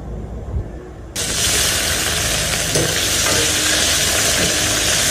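Food goes into a hot pan for a beef tongue estofado and sets off a sudden loud, hissing sizzle that holds steady and close, with a few faint stirring scrapes underneath.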